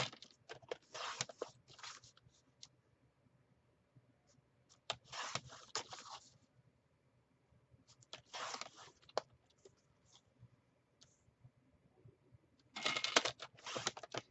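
Scrap craft paper cut into one-inch strips, four separate rasping cuts spaced apart by quiet pauses, close and soft.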